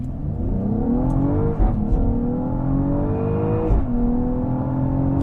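A Mercedes-AMG GLE 53 4MATIC+ SUV accelerates hard from a standstill, its engine note climbing steadily with two sharp gear-change dips, loud and close throughout.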